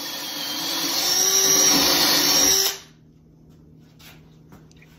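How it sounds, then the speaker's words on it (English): Power drill boring dowel holes through a dowel jig into a cabinet board, a steady loud whine lasting under three seconds before cutting off to near silence with faint room tone. "Here I'm drilling the hole for the dowels using the jinsen dowel jig."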